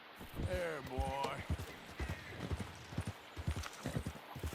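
Horse hooves clip-clopping in Red Dead Redemption 2, a steady rhythmic trot of soft hoof beats heard close, with a brief whinny-like voice and talk mixed in.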